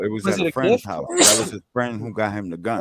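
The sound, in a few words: sneeze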